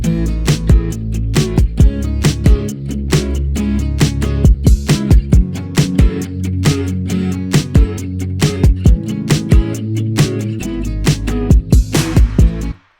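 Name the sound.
FL Studio song with real-sounding virtual acoustic guitar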